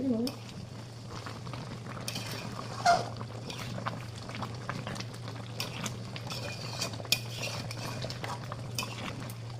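Chicken curry being stirred in a pan, with a spoon scraping and knocking against the metal in scattered strokes over a steady low hum and quiet simmering, close by and without talking.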